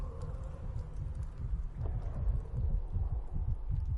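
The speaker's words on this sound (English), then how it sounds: "Okay, so that's a very, very soft heartbeat." A dragon egg's very soft heartbeat in the Fortnite video game, heard as a steady run of muffled, low throbbing pulses under a faint background hum, with no talking.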